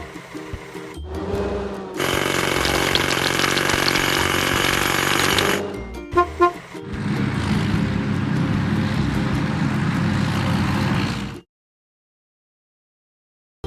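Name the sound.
cracking big rocks in a kids' vehicle video game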